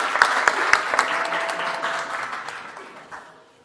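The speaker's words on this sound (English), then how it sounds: "So a big applause for Vangelis." Conference audience applause for a speaker, a few distinct near claps at the start blending into a broader round of clapping that gradually fades away, with a faint voice underneath.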